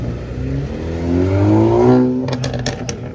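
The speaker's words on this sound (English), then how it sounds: "Oh, that exhaust sounds so cool." A classic tuned Alfa Romeo engine revs up with a rising, throaty exhaust note, close by, followed by a few sharp pops and crackles.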